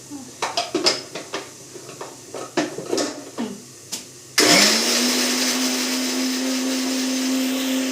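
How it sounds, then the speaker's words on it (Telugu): Tomatoes and green chillies for an egg masala gravy curry: a few clinks and clatters as the mixer grinder jar is handled, then its motor starts and runs with a loud, steady whirring drone. "టమాటాలు, పచ్చిమిర్చి మిక్సీ పట్టుకుందామండి."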